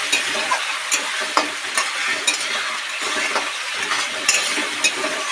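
Tomato masala with green chillies sizzles and fries in a pan, with a steady crackle broken by occasional spoon stirs and scrapes, close and continuous.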